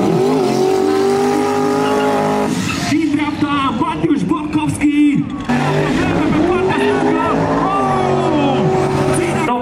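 Drag racing cars at a championship final in Arad, Romania, roar loudly, with harsh revving and shifting engine notes, a brief squeal, and a commentator's voice underneath.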